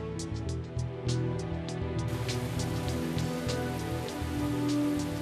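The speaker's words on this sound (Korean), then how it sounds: "새벽이 되고 비가 내리기 시작했다." Rain falls steadily on a concrete dam construction site during the night, a dense hiss of drops on hard surfaces that thickens partway through, with scattered sharper drips and no voices.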